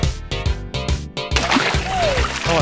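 Water splashing in the Speedy Eggbert video game, a burst of sloshing splatter arriving after a stretch of game music and continuing to the end, fairly loud.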